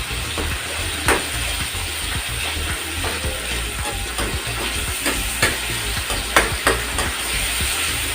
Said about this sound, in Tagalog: Durog-durogin ang mga kamatis, patis, sibuyas.